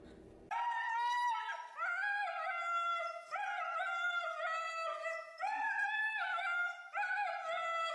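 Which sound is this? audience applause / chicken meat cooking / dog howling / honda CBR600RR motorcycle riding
dog howling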